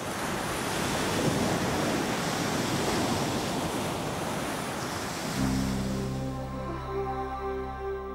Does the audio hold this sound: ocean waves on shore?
yes